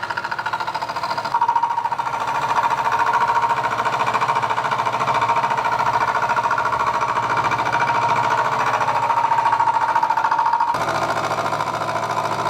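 A machine cuts an aluminium Velocette engine case with a loud, steady grinding whir that holds throughout, starting and stopping abruptly at the ends.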